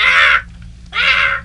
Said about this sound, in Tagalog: Ang uwak ni Carmina, naglupad siya palayo